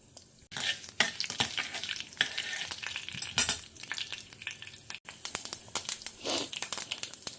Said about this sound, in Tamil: நல்லா கடுகு பொரிய ஆரம்பிச்செடுத்து, வெந்தயமும் செவக்க ஆரம்பிச்செடுத்து